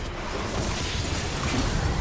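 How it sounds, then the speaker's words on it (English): A booming explosion from a ground-slam dunk in Destiny 2, a dense loud rumbling blast that fills the whole moment with no speech over it. "there's a little bit of an explosion that comes out of that dunk that actually does additional damage as well"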